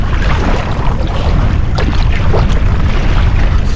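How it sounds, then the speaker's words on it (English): Wind-driven waves slap and wash around a kayak crossing a gusty coastal bay, a loud, continuous roar of wind noise and churning water with brief splashes, no talking. "these are the outflowing wind waves"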